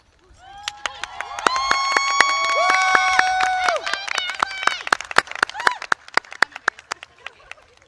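Pharmacy school graduates stand at a commencement ceremony and clap for their families. The claps are scattered and sharp, set against sustained, swelling musical tones.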